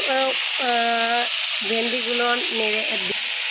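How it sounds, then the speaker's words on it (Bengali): Okra poured into a hot pan with oil and a few cinnamon sticks and stirred: a steady hiss of sizzling runs throughout, with stepped melodic tones sounding over it. "ভেন্ডিগুলো ঢেলে নাড়িয়ে চাড়িয়ে নিচ্ছি"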